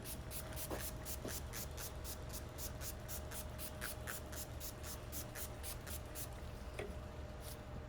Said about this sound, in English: And we're gonna spray it in.